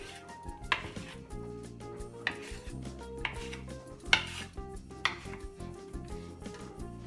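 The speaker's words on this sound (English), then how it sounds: "we're going to cut it up into 8 pieces" Pretzel dough is cut into pieces on a countertop, with several sharp knife taps against the counter at an uneven pace. Soft background hum and music run underneath.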